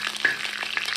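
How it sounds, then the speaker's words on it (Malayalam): Mustard seeds and dried red chilies fry in hot oil, a close, continuous crackle and hiss with a few sharp pops over about a second. "കടുകിട്ട് പൊട്ടുമ്പോഴത്തേന് അതിലേക്ക് വറ്റൽമുളക്, ഇട്ടു"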